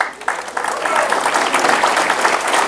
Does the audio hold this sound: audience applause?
yes